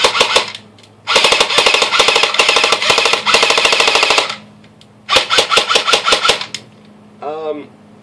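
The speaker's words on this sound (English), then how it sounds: "This gun is great. It shoots really nice. It has a new KWA motor as well." An airsoft gun with a 2GX gearbox and a new KWA motor fires rapid full-auto bursts, a loud, close mechanical rattle in three long strings with pauses between them, followed by a brief whine.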